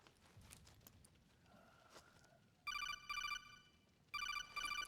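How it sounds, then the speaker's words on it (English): Phone call ringtone from the video game Metal Gear Solid 4: bright electronic trills in two pairs of rapid bursts, loud and alone over faint game ambience. "phone call."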